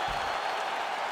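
A packed arena crowd in the fighting game EA Sports UFC 5 cheers and applauds at the end of a bout, a steady dense roar of clapping that fills the whole moment.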